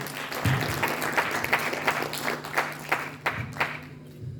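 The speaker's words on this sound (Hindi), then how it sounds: "जोरदार ताली से प्लीज स्वागत करें।" Applause from an audience welcoming a colleague at a Congress membership training program, a moderate crowd clapping with some sharper individual claps standing out, tapering toward the end, plus a faint tonal hum underneath.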